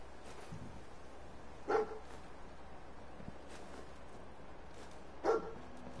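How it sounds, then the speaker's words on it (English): A dog in the video game Fallout 4 gives two short, moderately loud barks separated by a few seconds, over a steady low ambient hum. "Every Fallout game has a dog."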